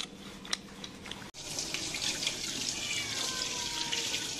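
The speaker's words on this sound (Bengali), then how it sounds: "চিকেনগুলোকে ধুয়ে রাখছি" Raw chicken pieces are washed under a running tap: a faint clink at first, a sharp knock, then a steady splashing gush of water into a sink.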